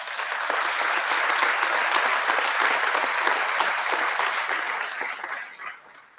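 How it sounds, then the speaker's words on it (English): Applause for graduating students at a business school hooding ceremony: a broad, sustained wash of many hands clapping from a sizeable audience, steady throughout and tapering slightly at the close. "Let's all give a round of applause to all of our graduating students."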